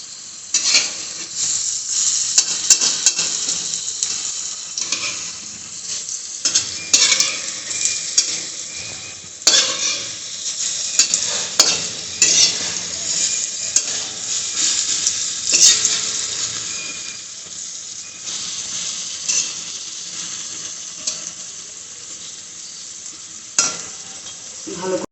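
Fritters (bora) fry in hot oil in a kadai and are flipped over: a continuous crackling sizzle with stirring scrapes and occasional clinks of a spatula against the pan, with no talking.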